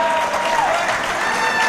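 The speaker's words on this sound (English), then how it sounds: "Well-rounded applause for those 2." Crowd at a high school basketball game applauding players coming off the court, a loud, dense, steady clapping throughout.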